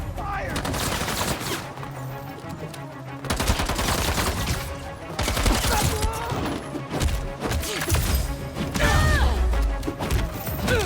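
Game gunfire in Spider-Man 2 rattles in dense, chaotic bursts with crashes and thuds, loud and continuous throughout, mixed with other action noise.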